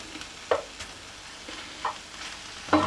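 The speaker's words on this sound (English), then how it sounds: "I'm just going to turn the streaky bacon over." Streaky bacon is turned over in the basket of a Ninja air fryer: light tong clicks and taps over a faint, steady sizzle, heard close and fairly quiet.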